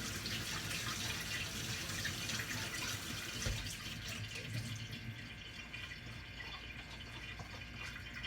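Tap water runs steadily over a silicone basket being rinsed at a sink, a continuous close splashing rush that softens slightly partway through, with no talking.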